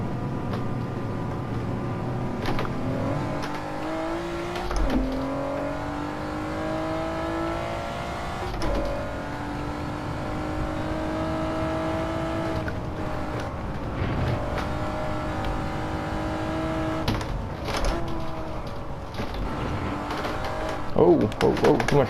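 Gran Turismo 7 racing game car engine drones steadily with rising and falling revs through a sustained four-wheel drift, pitch sliding between gear changes and a burst of throttle near the end, with a voice speaking over it.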